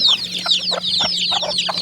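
Free-range village chickens pecking at paddy rice at evening feeding time, several birds giving short soft clucks and chirpy calls in quick irregular bursts, close and clear with no talk.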